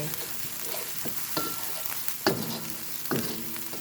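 Chili and garlic fry in a pan for a spicy stir-fried pork and yellow bamboo shoot dish, a steady close sizzle broken by a few scraping stirs of the spatula.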